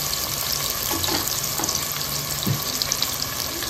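Chopped onions and green chillies sizzle in hot oil in a pan, a steady, fairly quiet hiss and crackle with a few soft pops, heard alone with no talk.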